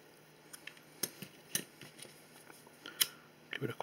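Scissors snipping off excess bungee cord for a scale RC model, several small sharp clicks and cuts at irregular intervals, quiet and close, with faint handling noise between.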